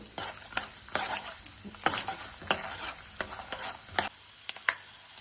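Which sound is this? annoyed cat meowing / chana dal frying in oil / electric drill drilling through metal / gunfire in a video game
chana dal frying in oil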